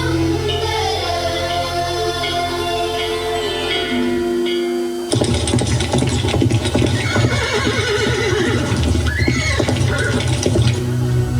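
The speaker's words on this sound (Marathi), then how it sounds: "हा कसला आवाज. घोड्यांच्या टापा." Horse sounds played as a stage sound effect during a school festival play, loud and continuous: a sustained musical passage gives way around five seconds to a burst of whinnying and clip-clopping hoofbeats over busy noise.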